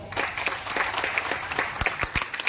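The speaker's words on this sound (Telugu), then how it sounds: "వాళ్ళ కోసం ఒక్కసారి బిగ్ క్లాప్స్." Audience in a seated hall applauding an electric vehicle sales presentation, a steady burst of many hands clapping at moderate distance with a few louder close claps.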